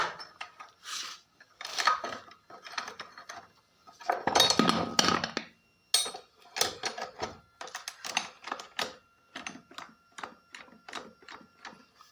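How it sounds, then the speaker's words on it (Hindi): A wrench works the clutch cover nuts loose on a Hero Glamour BS6 fuel-injected motorcycle, giving close metallic clicks and clinks in irregular bursts with short quiet gaps between them. "तो ये सभी नट 8 नंबर के बराबर साइज ओपन कर लेता हूँ।"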